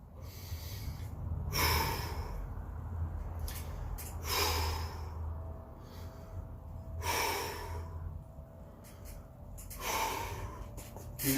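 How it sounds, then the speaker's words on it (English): Heavy, rhythmic breathing during a push-up workout, with forceful exhales or snorts repeating roughly every two to three seconds over a steady low background, close and fairly loud, with no talking. "Get into a rhythm with your breathing."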